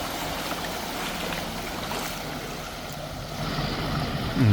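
Drinking water gushing from a damaged pipe in Malatya, flooding the courtyards of several apartment buildings, makes a steady, loud broadband rush that holds constant throughout and swells slightly toward the end.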